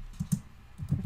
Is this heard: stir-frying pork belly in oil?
no